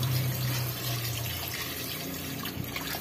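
Water poured into a cooking pot for the rice of a sardine locrio, a continuous splashing, gurgling flow, louder at the start and easing off.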